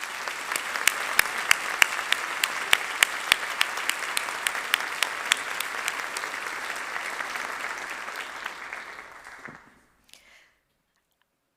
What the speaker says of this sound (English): Please, let's give all of our teams a round of applause.